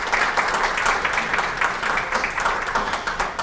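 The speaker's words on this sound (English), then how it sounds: "please welcome Dr. Kim with a warm round of applause" An audience at an academic lecture on colonial Korea applauds to welcome the speaker. The clapping is steady and even throughout, with no voices over it.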